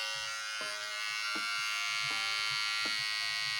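A T Pob Troll electric hair trimmer runs close by with a steady, even buzzing hum. Soft periodic clicks or handling bumps sit under the continuous motor drone.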